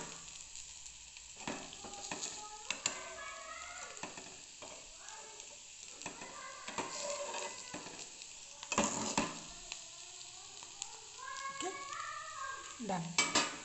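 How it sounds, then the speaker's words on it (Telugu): Bitter gourd fry mixture stirred in a pan on the stove over medium flame, with a soft steady sizzle and intermittent scraping and clinking of the spoon against the pan, close and moderately quiet. "1 మినిట్ కలుపుతూ బాయిల్ చేసుకొని స్టవ్ కట్టేయడమే."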